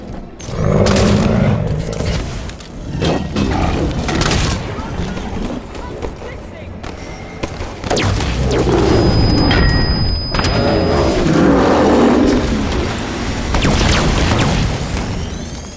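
Explosions and gunfire in Halo 5 Guardians, with heavy booms and thuds rolling through a dense battle mix under a game score; loud throughout, with voices speaking over parts of the fight.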